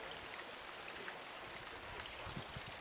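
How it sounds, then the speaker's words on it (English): Spring water bubbles up out of the ground outdoors on a hike, a faint, steady trickle and gurgle with small irregular splashes and no talk over it. "You see this water bubbling up? Up out of the ground."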